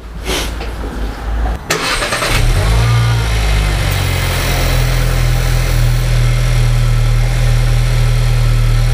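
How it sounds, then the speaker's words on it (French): New-generation VW Caddy engine cranks with a brief starter whir, catches and settles into a steady, loud, close idle with a low even hum. "Regardez ce beau moteur de la VW Caddy."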